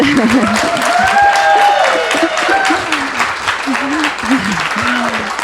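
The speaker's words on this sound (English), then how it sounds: "I'd like you to give even louder applause to our panel" A conference audience claps for a panel, a loud, sustained burst of applause with a voice talking over it.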